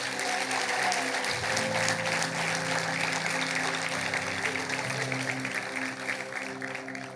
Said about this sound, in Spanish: ¿por qué no le das un aplauso a Dios?